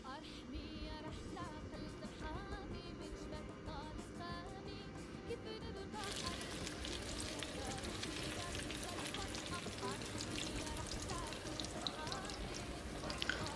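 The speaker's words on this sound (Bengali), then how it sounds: "তো তো আমি একটু মিডিয়াম আগুনেই অনেকক্ষণ ভেজে নিচ্ছি যাতে ভিতরে পর্যন্ত চিকেনগুলোর" Chicken pieces, with water added, frying for a long time in a pan over medium heat, giving a steady dense sizzle and crackle that grows busier halfway through, with a voice talking over it.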